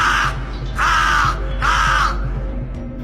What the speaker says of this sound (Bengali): ঠিক তখনই সিংহ মহারাজের কাছে কাক এলো।